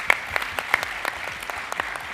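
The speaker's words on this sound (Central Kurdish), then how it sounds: "یەک چەپڵەی گەورە و گەرمی ئێمە بۆ ئێوەیە" At a TEDx event in Halabja, a small audience claps in sparse, distinct handclaps spaced in a loose rhythm, fairly close and clear against a quiet room.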